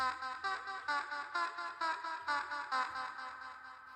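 Dreamy, plucky synthetic instrument repeating a bright rhythmic pattern with echoing shimmer, steady pulses fading slightly at the end.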